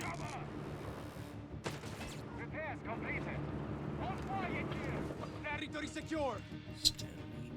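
Machine gun fire and explosions in the World War II strategy game Company of Heroes 3, a steady crackle of bursts with a sharp blast near the end, heard under continuous commentary.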